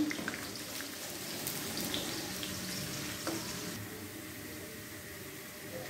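Finely chopped onion sizzles steadily in a pan of hot oil, browning to golden for sarson ka saag; a constant, close hiss with faint clinks and no voices.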